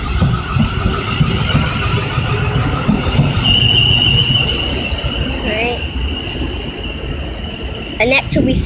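A South Western Railway train pulls away at a station, its steady rolling rumble and rising tonal whine building under people talking nearby, with a brief squeal near the end.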